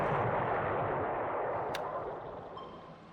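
Torpedo hits on an enemy cargo ship in the World War II Pacific naval strategy game War in the Pacific: a muffled, rumbling explosion with no talk that fades steadily over a few seconds.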